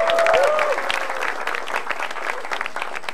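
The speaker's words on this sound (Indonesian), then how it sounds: "Tepuk tangan untuk Erwin." A comedy club audience at an Indonesian stand-up show applauds comedian Erwin's arrival with dense, steady clapping, loud and close, plus a brief whistle near the start; the clapping holds for about three seconds without speech.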